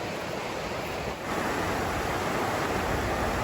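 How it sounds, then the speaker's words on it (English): The Nolichucky River rushes past in a steady, broad, full-bodied roar of flowing water, close and loud, unbroken from start to finish. "It's our first good look at the Nolichucky River"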